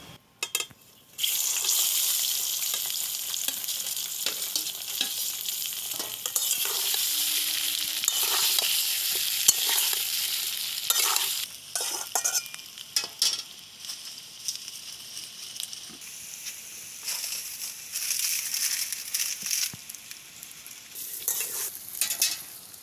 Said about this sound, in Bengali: তেল ভালো গরম হয়ে গেছে, এবারে দিয়ে দিচ্ছি